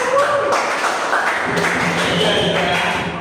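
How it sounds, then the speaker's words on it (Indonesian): Classroom applause from a group of students: brief, dense clapping that holds steady for a few seconds. "tepuk tangan untuk kita semua"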